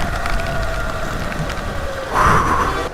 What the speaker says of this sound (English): Hopefully the rain passes.